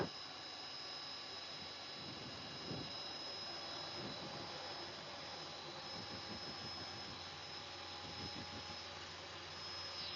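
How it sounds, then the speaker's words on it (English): A jet aircraft comes in to land with a tailwind, giving a steady distant roaring whine with a constant hum that holds without a clear rise or fall. "Let's look at the jet."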